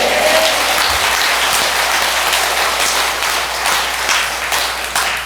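Sustained applause from a large audience at a Buddhist temple dharma assembly, a dense steady wash of clapping that holds evenly throughout and tapers slightly at the end.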